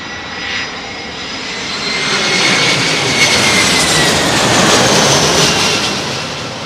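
Airliner arriving at Heathrow Airport on a windy day, its engine roar swelling loud and broadband as it passes overhead, then easing slightly, with wind rushing throughout.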